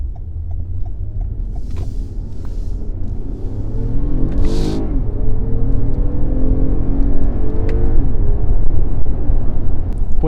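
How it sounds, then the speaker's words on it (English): A car engine with an automatic transmission revs up loudly toward redline, the pitch climbing steadily before the gearbox shifts up on its own and the engine note drops and builds again. "the car will still upshift on its own if you hit redline"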